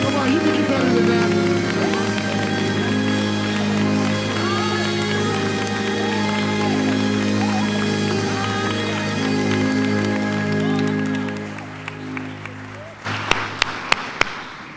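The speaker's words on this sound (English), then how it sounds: "Come on and clap your hands and celebrate." Sustained crowd clapping and cheering at a community celebration honoring Martin Luther King Jr., steady applause under loud music and voices, thinning out into a few sharp isolated claps at the end.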